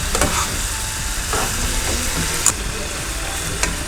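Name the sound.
fried chicken pieces stirred into ginger masala in pan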